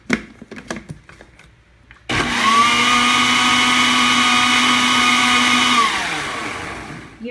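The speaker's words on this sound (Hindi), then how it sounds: "अब मैं इसमें ही थोड़ा सा जीरा भुना हुआ, थोड़ा सा सॉल्ट, ब्लैक सॉल्ट और थोड़ी सी काली मिर्च डाल के दोबारा से इसे ग्राइंड कर लूँगी" A mixer grinder whirs loudly and steadily for about four seconds, blending a summer drink with roasted cumin, salt, black salt and black pepper, after faint kitchen clatter; the motor then winds down.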